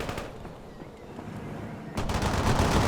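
Machine gun fire in the World in Conflict video game, a muffled rattle of shots that swells into louder, denser bursts in the final second, with no speech.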